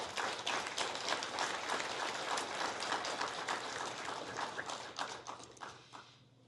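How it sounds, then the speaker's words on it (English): An audience at an election event for chair candidates applauds: dense, steady clapping from many hands that tapers off at the end. "Big round of applause for our candidates."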